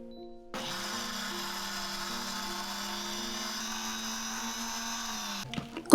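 An electric blender grinds shallots, garlic and chili for homemade shrimp salt, a steady loud whirring motor that starts abruptly, runs evenly for about five seconds, then cuts off with a brief clatter.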